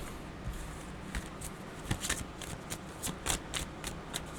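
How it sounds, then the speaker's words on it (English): A deck of tarot cards is shuffled by hand, giving a steady run of quick riffling snaps and soft papery flutters, close and fairly quiet, with no talking. "let's get these cards out, shall we?"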